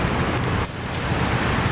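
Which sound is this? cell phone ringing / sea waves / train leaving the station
sea waves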